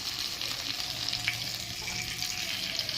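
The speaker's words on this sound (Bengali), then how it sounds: "আমি মটরশুঁটিটা একটু মশলার সাথে ফ্রাই করে নিই" Green peas frying with spices in a hot pan, a steady close sizzle and crackle with faint stirring scrapes, no voices.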